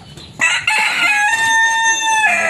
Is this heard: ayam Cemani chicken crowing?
yes